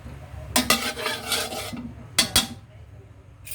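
Aromatics for pansit are stirred in a pan with a utensil, giving two bursts of scraping, clattering sizzle with a quieter pause between them and no talking.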